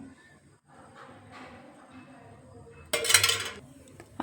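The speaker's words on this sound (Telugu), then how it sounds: "స్టవ్ ఆన్ చేసి ప్యాన్ పెట్టేసుకుందాం" A cooking pan set down onto a kitchen stove lands with a short, bright metallic clatter of about half a second, loud against a quiet room with faint background hum.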